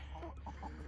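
Soft clucking from chickens, a few short low calls at a distance over a faint background hum.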